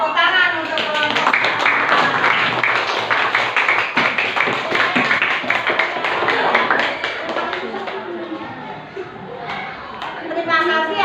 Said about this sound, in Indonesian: Berarti tepuk tangan untuk kelompok.